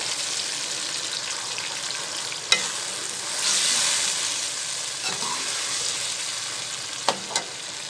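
Mutton sizzles and fries in a pan with browned onions and tomato paste as it is stirred. A steady hiss runs throughout, with a few sharp scrapes and clicks of the utensil.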